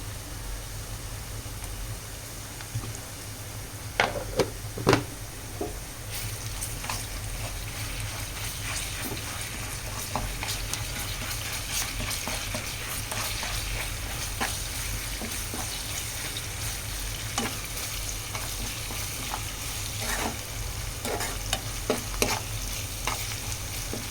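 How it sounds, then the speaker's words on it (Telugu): Onions and ginger paste fry in a pan with a continuous close sizzle, broken by intermittent spatula scrapes and stirring taps, and no voices present. "ఇలా ఆనియన్స్ మగ్గిన తర్వాత అయితే కొంచెం అయితే అల్లం పేస్ట్ వేసుకుందాం"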